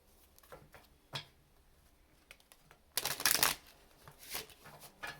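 Rider-Waite tarot cards riffle-shuffled in a few quick bursts, a soft crackle then a louder, longer flurry of shuffling near the end, with no talking.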